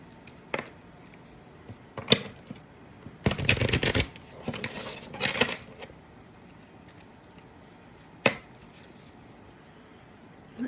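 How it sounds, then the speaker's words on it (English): Woodland Wardens Oracle cards are shuffled by hand in a quiet room, with short papery riffles, a louder burst of rapid shuffling and a few scattered single flicks. "Let me get one more card from the Woodland Wardens Oracle."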